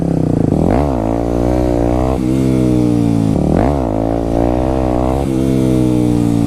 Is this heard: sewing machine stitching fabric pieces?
no